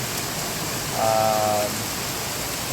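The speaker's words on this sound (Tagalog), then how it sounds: "stranded kami dahil sobrang lakas ng ulan" Heavy rain pours steadily in the mountains around Banaue, Philippines, a loud continuous wash of rainfall with a brief tonal whine rising above it partway through.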